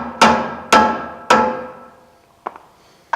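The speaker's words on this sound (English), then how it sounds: "Take that large screwdriver again, and you're going to wedge it down" A large screwdriver wedged down onto a PowerHold shoe part gives three sharp, ringing metallic knocks in slow succession, each decaying away, then two softer, fainter taps close by.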